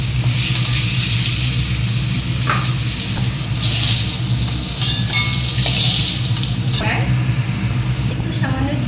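Pointed gourd (potol) fries in hot oil with a steady, loud sizzle, broken now and then by stirring scrapes, while someone talks over it.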